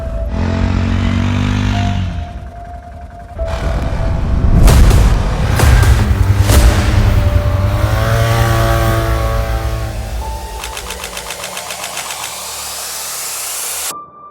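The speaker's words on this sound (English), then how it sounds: "sometimes it backfires when you give it throttle" A small carbureted engine is throttled up and down, its loud, rough revving rising and falling over a steady drone, with uneven sputtering surges and sharp pops near the middle.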